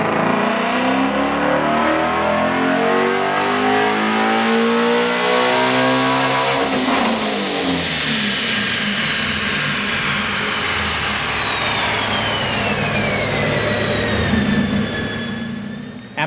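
A Shelby GT350 engine on a dyno climbs in one long, loud pull, its pitch rising for several seconds. It holds near the top, then winds down as the revs fall away, with no voices.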